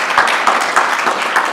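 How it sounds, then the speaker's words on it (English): An audience applauds at the close of a talk on working through rights clearance, a dense, steady patter of many hands clapping close by for the whole moment with no voices. "Round of applause."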